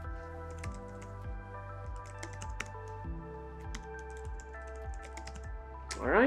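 Typing on a computer keyboard while entering a name and password during a Home Assistant account setup, a steady run of close, light key clicks with no talking.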